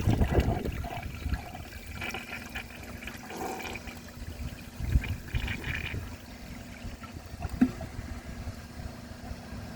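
A 2003 Kohler Serif toilet flushes with a loud rushing swirl, then its tank refills with a steady trickling hiss and gurgles close by, with no talking.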